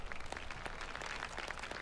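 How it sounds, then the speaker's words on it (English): A dense patter of clapping hands, quiet and steady, from a small audience throughout with no talk over it. "Clap, clap, clap, clap."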